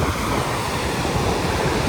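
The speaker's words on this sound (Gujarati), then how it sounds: "દરિયો કરે છે ઘૂઘવાટા" Sea waves roar steadily on a sandy beach on the Gujarat coast, with a continuous, loud broadband wash of surf and some wind across the microphone and no break in the sound.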